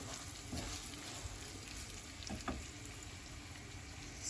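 Green chilies, ginger and garlic fry in a pan with a soft, steady sizzle throughout and a few faint clinks, with no talking.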